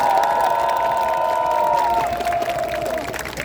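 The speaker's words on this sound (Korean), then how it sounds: "우리 정은경 총괄선거대책위원장님께 다시 한번 큰 박수 부탁드립니다" A crowd at an outdoor election rally in a plaza cheers and applauds loudly, a dense roar of voices with shouts and a whistling tone over it, fading slightly toward the end.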